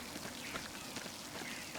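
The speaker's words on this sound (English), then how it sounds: "Bit of rain is falling." Rain falls in the medieval game Pentiment as a steady, dense hiss of patter, continuous and even with no voices.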